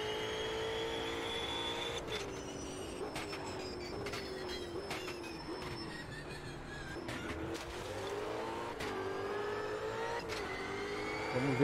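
An Ultima GT race car engine in the video game Automobilista 2, a steady high engine whine with rising and falling pitch through gear changes and occasional sharp clicks, moderately loud and without talk.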